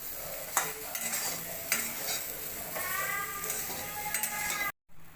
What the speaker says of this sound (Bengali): নুন দিয়ে দিব, তারপরে নেড়ে চেড়ে ভালো লাল করে ভেজে নেব